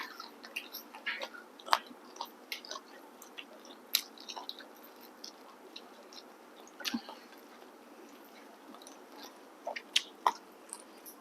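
Someone chews roast suckling pig with bones up close, making soft wet mastication broken by scattered sharp crunches and cracks over about eleven seconds.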